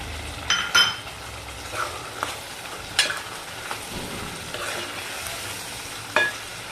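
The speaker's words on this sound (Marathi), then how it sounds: "आता आपण शिजलेले काळे वाल टाकून परतून घेऊ" Cooked black val beans are tossed in a spice paste in a pan, making a soft sizzle under intermittent spoon scrapes and a few metallic clinks against the vessel.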